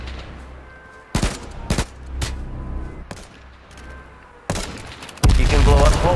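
Gunfire in the battle royale video game H1Z1 Battle Royale: several sharp, loud bursts of shots spaced irregularly, ending in a sustained blast of dense noise over low game ambience.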